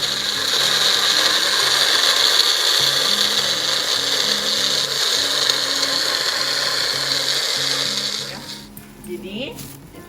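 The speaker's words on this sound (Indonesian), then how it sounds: "ini kita blender dulu ini ya" A kitchen blender grinds spices for an Indonesian sour-spicy fish stew, running steady and loud with a high whirring motor tone and rattling blades for about eight seconds before cutting off, leaving faint background noise.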